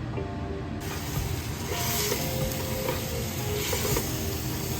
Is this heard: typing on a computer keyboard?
no